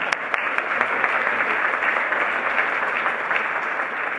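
An audience at a university graduate research conference keynote claps steadily and loudly for several seconds, a dense even wash of applause with no voices standing out.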